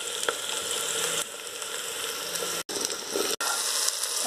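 Ridge gourd and onion sautéing in hot oil, a steady close broadband sizzle with faint stirring scrapes that cuts out twice for an instant.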